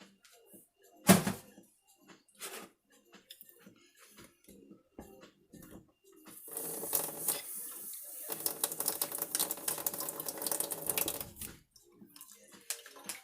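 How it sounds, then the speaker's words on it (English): Water poured from a tap into a pot of tomato paste in a home kitchen, a steady rushing splash lasting several seconds amid scattered clinks and knocks. "Probably put a little bit of water in there"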